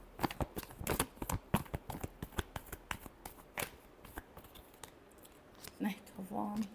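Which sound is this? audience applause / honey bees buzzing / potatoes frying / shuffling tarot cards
shuffling tarot cards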